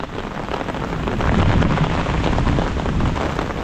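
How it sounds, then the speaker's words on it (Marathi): Heavy monsoon rain pours down in Konkan, a loud, steady, broadband roar that swells slightly midway and continues without pause, with no voices over it. "पाऊस काय चालूच राहणार आहे."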